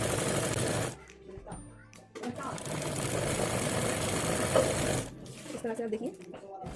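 A sewing machine stitches along a fabric edge in two long runs, a steady fast whirring close by, stopping briefly between bursts while someone talks during the pauses.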